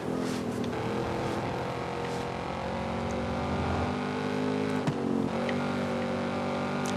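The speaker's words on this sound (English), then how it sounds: "you can just hear the sound of your engine like bouncing off the wall and coming back at you" A car engine in Forza Horizon 5 drones and revs steadily as it drives past a rocky wall, the tone reverberating and holding loud and close throughout.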